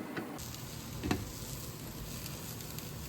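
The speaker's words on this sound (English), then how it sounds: "I'm going to cook the sauce mixture on medium heat and try to bring it to a boil" Peanut sauce mixture cooking in a pan over medium heat and being stirred, giving a steady, soft sizzle with faint scraping and one brief louder clatter partway through.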